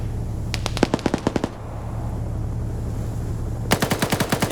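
Heavy .50 caliber machine gun fire from an LEV combat vehicle in a video game match, heard as two rapid bursts of evenly spaced loud shots with a steady engine-like hum between them.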